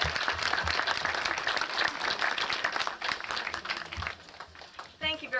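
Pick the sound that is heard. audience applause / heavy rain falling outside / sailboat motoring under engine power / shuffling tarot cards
audience applause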